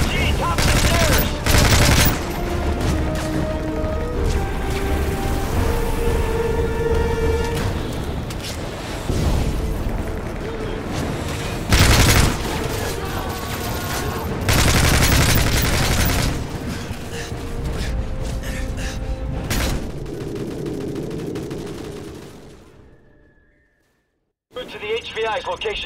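Heavy, continuous gunfire with bursts and explosions in a Call of Duty Modern Warfare 3 battle, loud and dense, with shouted voices over it, cutting out briefly near the end.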